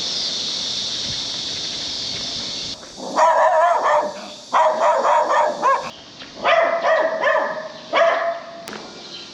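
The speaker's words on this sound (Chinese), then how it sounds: "狗狗这么吵，其实也不会吵到邻居" Several dogs bark loudly in repeated bursts on an abandoned, empty residential street in Zhuwei, Taoyuan, near and insistent, after a few seconds of quiet hissy background.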